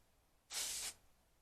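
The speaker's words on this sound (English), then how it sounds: "Gonna spray that dry shampoo on it." A dry shampoo aerosol can sprays onto hair in one short, steady hiss lasting about half a second, close and fairly loud, with quiet before and after.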